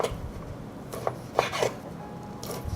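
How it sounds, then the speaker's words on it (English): A knife slices through 100 grams of bacon on a cutting board in a home kitchen, a few short rasping strokes and soft taps heard up close against a quiet room. "I will cut 100 grams of bacon."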